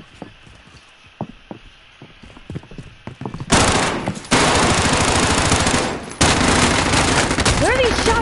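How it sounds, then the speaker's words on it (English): Video game gunfire: scattered clicks and faint pops at first, then loud sustained automatic shooting in long dense bursts, briefly broken by a short gap before resuming. "Where are these shots going?"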